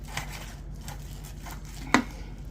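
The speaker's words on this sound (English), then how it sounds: "Just gonna slice her up." A knife slicing through a perfectly cooked chuck roast gives faint, soft cuts against steady low background hum, ending in one sharp tap of the blade on the board.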